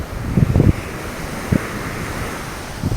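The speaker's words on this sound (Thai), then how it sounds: "ลมแหงลมบนบกทั้งลมทะเลทุกคน" Strong waves roll onto the shore under gusting sea wind, a loud constant roar of surf and buffeting wind on the microphone, with a few heavier thumping gusts standing out.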